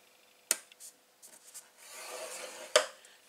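Cardstock paper being scored for a gift box, with two sharp close clicks and a soft stretch of scraping between them, quiet and without speech.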